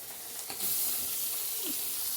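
Papaya pieces frying in a pan, a close, steady sizzle and hiss that grows louder after the first moments and holds to the end.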